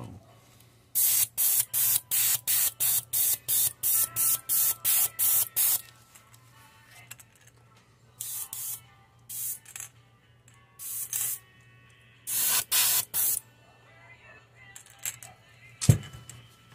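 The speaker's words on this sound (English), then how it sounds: "stupid airbrush never acts up until I want to do a video." An airbrush sprays paint onto a fishing lure in a perch pattern, in a quick run of about ten short, even hissing bursts, then several scattered, more irregular bursts as the airbrush sputters, ending with a sharp click.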